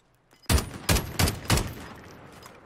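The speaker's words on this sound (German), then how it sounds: "Ein bisschen geschossen." Four loud, sharp gunshots crack out in quick succession during a Call of Duty King of the Hill match, each followed by a short ringing tail that fades away, with no voices.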